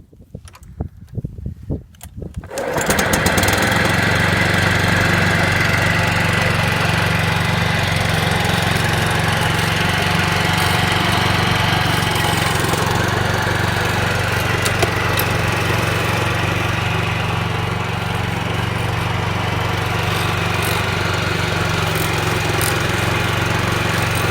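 A STIHL RL 540 petrol scarifier starts up on a lawn and then runs steadily, its engine drone and raking blades holding a loud, even, close roar throughout with no voices.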